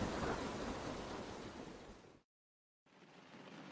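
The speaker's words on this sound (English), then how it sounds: "the sound of the storm all around him" Storm sound effect of rolling thunder and steady heavy rain, a dense roaring wash that fills the first two seconds, cuts briefly to silence, then resumes more softly.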